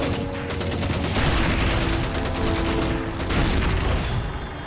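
Dense, loud rapid gunfire rattles steadily in Call of Duty 2, a sustained burst of automatic shots with no voices.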